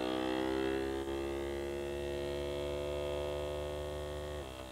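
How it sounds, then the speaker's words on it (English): A FoodSaver vacuum sealer drawing air out of a wine bottle stopper through its accessory hose gives a steady, loud motor hum and whine that holds for several seconds and then drops as the pump stops near the end. "It'll vacuum out the air."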